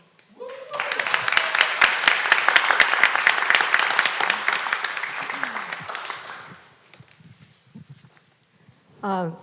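An audience at a disability service awards ceremony applauds the honorees, a dense burst of clapping that swells and then fades out over several seconds, with a voice starting up at the end.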